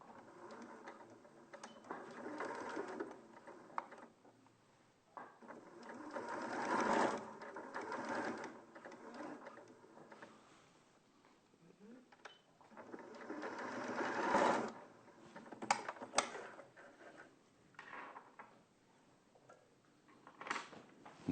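A sewing machine stitches along two folds pressed into a piece of fabric, running in bursts of steady whirring with short pauses between seams, fairly close and without talk.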